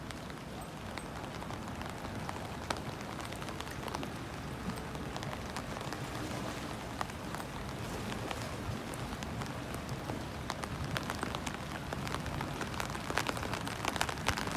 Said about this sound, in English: Really bad day today. Rain.